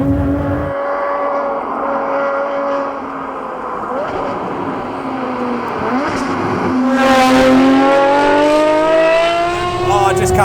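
A Ferrari 599XX-based TALOS XXT road car revs loudly while driving, its engine note climbing and falling before surging higher, with a voice talking over the roar.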